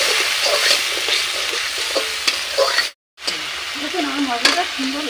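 Spice paste for a snakehead (shol) fish curry fries and sizzles in a pan, with a spoon scraping and stirring in quick, irregular strokes; the sound drops out briefly midway, then the loud close sizzle resumes.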